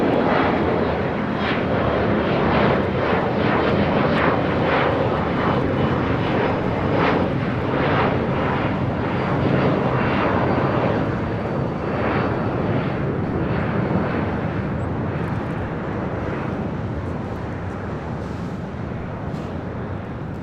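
A SkyWest jet takes off from runway 25 right at LAX, its engines giving a loud, steady roar that fills the whole stretch and eases off slightly toward the end.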